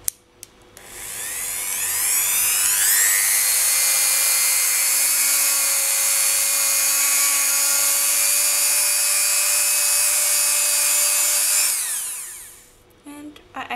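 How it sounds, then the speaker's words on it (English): Dremel 3000 rotary tool fitted with a buffing wheel polishing polymer clay earrings: a steady high-pitched whine that spins up, holds loud and even for about ten seconds, then winds down to stop. "So I'm using a Dremel 3000 with a buffing wheel."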